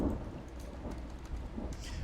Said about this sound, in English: I love freaking rain effects.